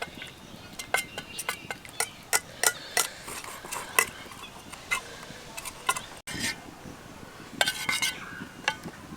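A spoon clinks and scrapes against a bowl while stirring melted Dairy Milk chocolate with hot water, a quick run of sharp metallic taps with a short pause partway through.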